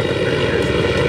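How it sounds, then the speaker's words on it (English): Aircraft engine drone from a helicopter flying in the video game Far Cry 6, a steady loud whirring hum with no breaks. "I'm gonna land it in a place where I can easily get this helicopter."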